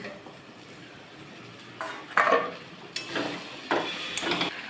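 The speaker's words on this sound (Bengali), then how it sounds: "ঢাকনা খুলে নিচ্ছি" Metal clanks and scrapes of a lid coming off a cooking pot in a home kitchen, a few sharp clatters close by with quiet gaps between, no talking.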